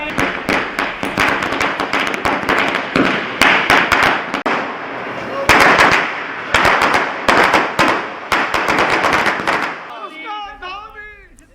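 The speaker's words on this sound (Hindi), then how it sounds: "इस मौके पर कार्यकर्ताओं ने आतिशबाजी कर खुशी का इजहार किया" At a BJP victory celebration in Pithoragarh, dense strings of firecrackers and fireworks pop and crackle loudly in rapid, irregular bursts for several seconds, then give way to a brief, warbling whistle near the end.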